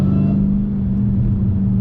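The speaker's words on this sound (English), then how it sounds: "850 horsepower Hellcat 2016." Steady low idle rumble of a 2016 Dodge Hellcat's 850-horsepower engine, close and loud, a constant deep drone with no revving, alone without voices.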